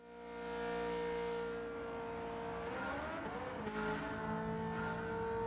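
Race car in Gran Turismo 7 with racing tyres, medium downforce and a tuned setup, engine droning steadily then pitch shifting through a gear change and revving on, loud and continuous, no talking.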